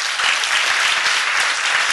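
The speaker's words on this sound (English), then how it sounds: "I want you to give yourself a big hand of applause today" A crowd at a Black First Land First political rally bursts into sustained, dense applause, loud and continuous clapping filling the whole moment with no voices over it.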